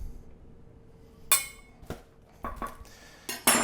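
Flour is spooned into a measuring cup and leveled off for a cake batter, producing several sharp clinks and scrapes of a metal spoon against the cup, spaced irregularly and close by.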